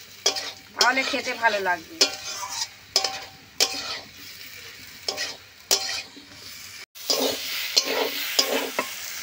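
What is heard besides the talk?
stirring and frying egg and soybean curry in a pan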